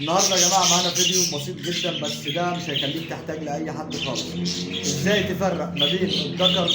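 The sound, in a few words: budgerigar chirping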